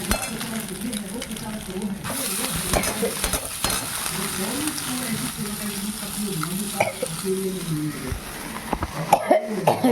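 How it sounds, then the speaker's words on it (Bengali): Chowmein noodles are tossed and stir-fried in a hot pan with a constant close sizzle and scraping, while someone nearby coughs and clears their throat several times. "এবার আমি এর মধ্যে চাউমিনটা দিয়ে নামিয়ে দেবো, হয়ে যাবে"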